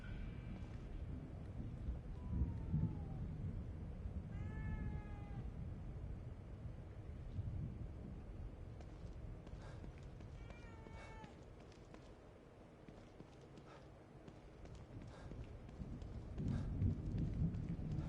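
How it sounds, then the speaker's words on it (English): A cat meows several times in the horror video game The Evil Within 2, rising wavering cries heard at moderate distance over a rumbling background of rain and thunder, with no speech. "Heard a cat."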